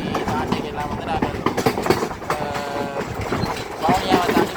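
A train pulls through Omanthai railway station with rhythmic rumbling and clanking, loud and close, while people talk over the noise.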